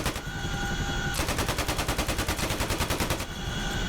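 Door gunners on a CH-47 Chinook helicopter in the DCS World combat game fire machine guns, a loud, fast, steady stream of rattling shots lasting a couple of seconds over the droning rotor noise.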